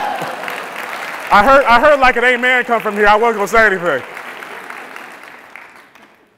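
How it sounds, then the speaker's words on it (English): Audience applause at a pitch competition final rises beneath someone talking and slowly fades to a soft tail once his voice stops. "You can clap."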